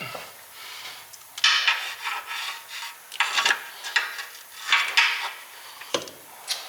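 A bolt being worked loose during a Miata clutch change, heard as repeated close rasping, scraping tool strokes in uneven bursts with short pauses between them and no talking.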